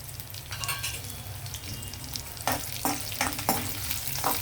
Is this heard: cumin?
yes